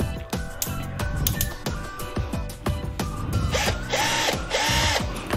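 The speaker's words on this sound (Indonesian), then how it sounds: "bor baterai merek HNL ini sedikit lebih besar tenaganya" An H&L cordless battery drill runs in repeated short bursts, its motor whirring up and cutting off several times close by, with a higher steady whine toward the end.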